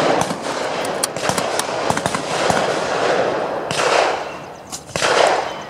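A Model 1903 Springfield sniper rifle fired with handloaded rounds at a shooting range: loud, sharp cracks at irregular intervals over a rough, noisy outdoor background.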